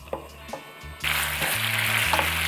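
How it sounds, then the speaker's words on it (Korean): Black bean sauce from jjajang ramen sits quietly in a pan with a few soft clatters until a spoonful or two of water hits it, setting off a sudden loud, steady sizzle. "불을 켜고 물을 한 두 수저 정도만 넣고 살짝 끓여줄게요"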